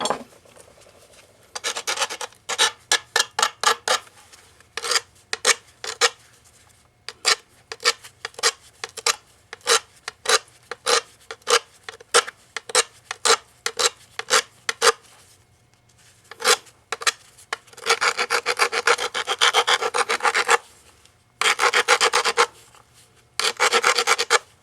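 A knapped stone point being sharpened by abrasion: quick, regular rasping strokes in bursts, then a pause and two longer, denser stretches of scraping near the end, close and fairly loud with no talking.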